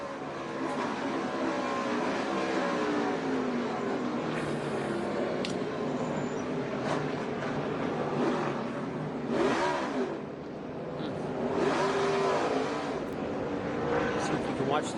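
Race cars at Sonoma racing and accelerating, engines rising and falling in pitch as they pass and rev hard, with commentators speaking over the roar.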